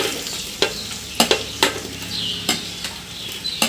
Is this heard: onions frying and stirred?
yes